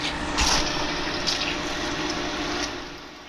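Water runs from a tap in a steady, close rush with a few brief splashy bursts near the start, fading slightly toward the end.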